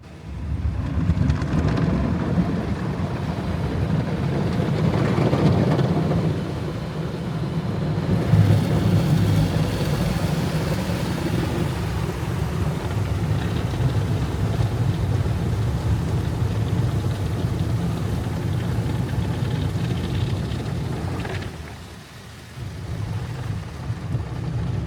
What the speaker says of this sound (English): The intense swirl of these brushes is rocking the entire car.